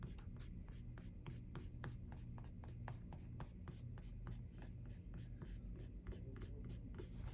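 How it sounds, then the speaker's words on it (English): Charcoal being erased from a working drawing on paper, giving a steady run of quick scratchy rubbing strokes, close and even, with no talking. "So erase out some of that fine charcoal, that working drawing."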